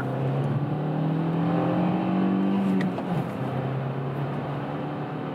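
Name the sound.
compact SUV accelerating on test drive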